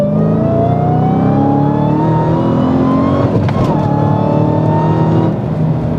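A loud Dodge Challenger Hellcat V8 engine revs hard and climbs steadily in pitch, with a brief sharp crackle partway through before it settles near the end.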